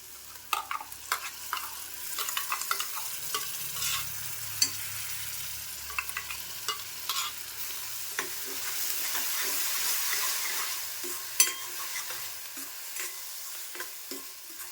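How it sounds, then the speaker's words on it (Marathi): Ground masala paste fries in a pan with a soft, steady sizzle under repeated scraping and tapping stirs, fairly quiet and close, with a low rumble partway through. "ते हे वाटण करून घेतलं आहे तर ते पण टाकते"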